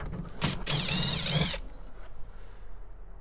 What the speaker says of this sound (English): It's secured with a 7mm screw, so let's go ahead and remove that screw.